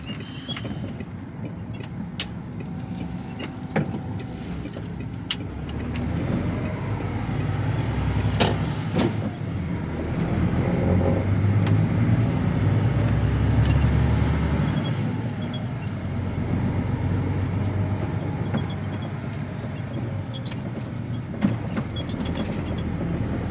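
Cab of an old Mercedes HGV container truck on the road in South Wales: a steady low engine and road rumble with creaks and rattles from the cab, continuous and close, with no voices.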